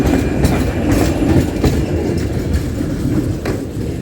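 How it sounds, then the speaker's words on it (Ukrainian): A new Czech-built tram rolls past a market with a steady rumble and rhythmic rail clatter, loud and close throughout. "Вон, бачите, трамвайчик їде."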